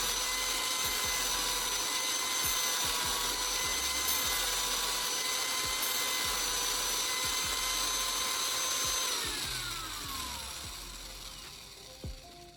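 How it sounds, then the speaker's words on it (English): An angle grinder fitted with a CD and fine sandpaper whines steadily at high speed while sanding a knife edge, with light intermittent scraping contact; the motor then winds down and fades near the end. "Light, even sanding will result in a noticeably sharper, smoother, and more even edge"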